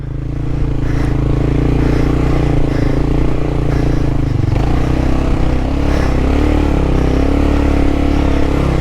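A Kawasaki KLR650 motorcycle engine drones loudly and steadily while riding off-road through a small desert, a constant close rumble with slight shifts in pitch and faint scraping.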